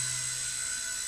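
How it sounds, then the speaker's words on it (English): A Blade mCP X radio-controlled helicopter flying indoors through a low-ceilinged basement gives off a steady, loud, high-pitched whine of spinning rotors and motor. "It's a great indoor helicopter for you guys."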